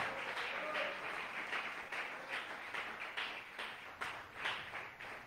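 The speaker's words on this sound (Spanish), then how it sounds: "Dale fuerte ese aplauso al Señor." A church congregation applauds during a Spanish-language sermon, a steady rhythmic round of clapping heard at moderate distance throughout.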